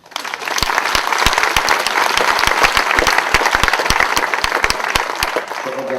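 Loud, close audience applause at a public talk in Muraz, Collombey, with sharp individual hand claps standing out in a dense, steady ovation.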